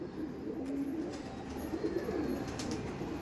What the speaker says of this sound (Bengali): এই দেখুন পায়রাটা দেখুন, এই আন্ধ্রা কালশিরা পেয়ারটাও কিন্তু বর্তমানে আছে দাদার কাছে